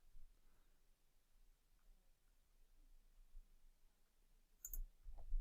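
A single soft computer mouse click, faint and close, against quiet room tone.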